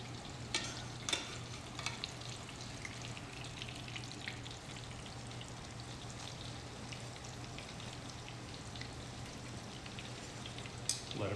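Bread fries in oil in a pan, giving a faint, steady crackle with scattered pops and a few sharper clicks, heard alone.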